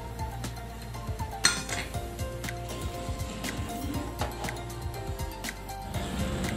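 Kheer (payesh) being stirred in a cooking pot on the stove, with steady scraping and clinking of a spoon against metal in an ongoing kitchen clatter.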